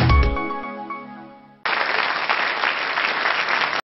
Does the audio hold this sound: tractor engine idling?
no